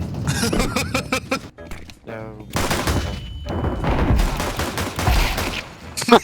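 Rapid bursts of video game gunfire rattle off in quick volleys, loud and close, with a brief quiet gap partway through.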